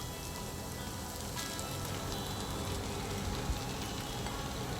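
Potatoes go into a pan of sautéed onion and turmeric for a dry potato sabji, setting off a steady, close crackling sizzle like light rain that runs throughout.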